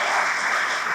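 Church congregation clapping during a Sunday worship service, a dense, steady wash of applause lasting the full second at even loudness with no gaps.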